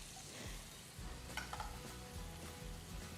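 Oil sizzling in a pan while frying tikka masala with garlic, a soft steady crackle with occasional stirring clinks, faint and close.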